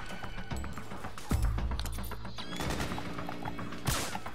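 Gunfire from the video game Metal Gear Solid 4 as suppressing fire breaks out, with sharp bursts and impacts over a steady game soundscape, a loud burst near the middle and another near the end.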